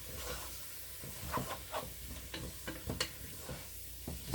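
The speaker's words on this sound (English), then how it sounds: "Start mixing the onions in with the escarole." Onions and escarole sizzling in a pan while being stirred, a steady hiss of frying with repeated scraping and clicking of the utensil, close and unaccompanied.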